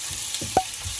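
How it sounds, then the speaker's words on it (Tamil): A single short stirring scrape of green mango pieces mixed into sautéed onions in a pan for a Sri Lankan-style mud crab curry, over a faint background sizzle. "இந்த நேரம் பார்த்து நாங்கள் வெட்டி வச்சிருக்கிற அந்த மாங்காய், பச்சை மாங்காயை இதுக்குள்ள போட்டு இதையும் இதோட சேர்த்து நல்லா மிக்ஸ் பண்ணுவோம்"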